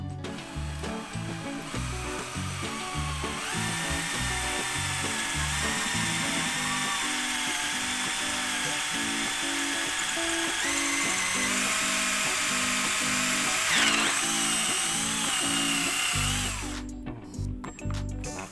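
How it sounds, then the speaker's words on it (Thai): A power drill whines steadily as its bit grinds into marble, the pitch wavering with pressure before it winds down near the end. "นี่หินอ่อนเจาะได้นะครับ"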